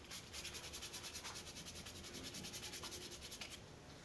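Sandpaper rubbing back and forth on a rubber car inner tube around a puncture, a close, steady rasping scrape in fast regular strokes with no talk.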